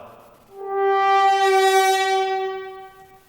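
A French horn with a hand jammed too far into the bell plays one sustained, buzzy, nasal stopped note, swelling in quickly and fading slightly at the end, heard alone.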